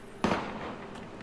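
A single sharp gunshot cracks in the Valkyria Chronicles video game, loud and close, and its echoing tail fades over a second.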